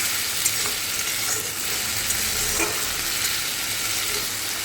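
Ginger garlic paste is stirred and fried in a pan, giving a constant close sizzle with faint scrapes and taps from the spatula. No one speaks.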